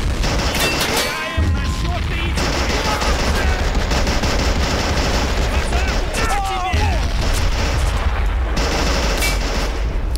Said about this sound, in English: Everyone's exploding now,